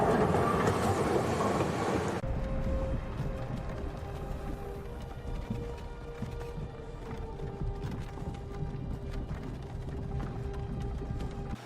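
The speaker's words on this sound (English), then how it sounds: "It seemed the train had reached its final stop." A train rolls along the rails in the game Higurashi, a continuous rumbling clatter that carries on steadily at a moderate level.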